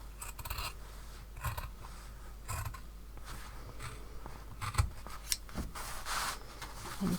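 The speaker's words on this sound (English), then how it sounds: "I'm just going to cut this little 7cm square" Scissors cutting a small square out of a calico tote bag, repeated close crisp snips and fabric rasps in irregular bursts, with no talking.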